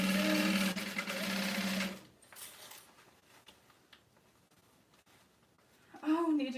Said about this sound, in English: Making my way around the bottom, back stitching over those accent pieces.